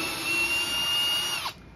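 A power drill whines steadily while backing out the screws on an Exohyde Madison speaker's midrange drivers, a close, continuous motor tone that winds down and stops near the end.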